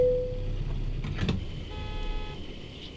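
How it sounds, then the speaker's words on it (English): A car horn honks in American Truck Simulator on a highway haul from Albuquerque to Houston: one steady, faint toot of under a second mid-clip, over a constant low engine and road rumble. "Is somebody honking at me?"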